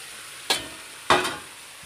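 Pieces of country chicken hit a pan of cooked-down spice paste, with two sharp bursts of sizzle and stirring over a quieter background hiss.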